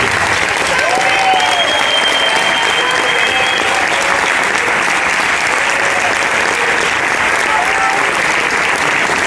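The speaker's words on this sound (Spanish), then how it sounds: "por favor, un fuertísimo aplauso para Sandy Melguizo" Loud, steady applause from a large audience fills the whole stretch at a podcasting award ceremony, a continuous wash of many hands clapping with faint voices mixed in.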